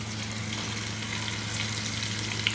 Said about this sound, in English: They're doing their thing. Frying away.